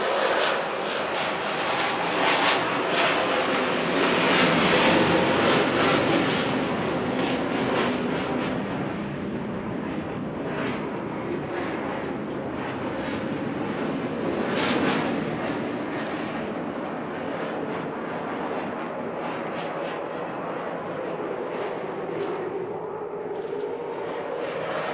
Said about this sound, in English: You feel the reheat coming on in just a moment.